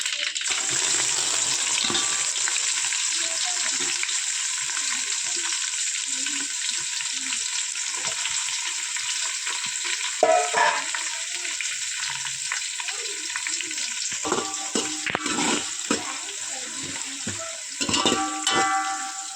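A loud, steady sizzle of onions frying in oil after a tempering of dried red chillies, for sambar, continues throughout, with occasional scraping and stirring clatter near the end.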